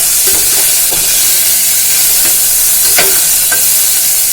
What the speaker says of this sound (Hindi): इस तरह से मैं ये गाजर भून लूँगी 2 मिनट के लिए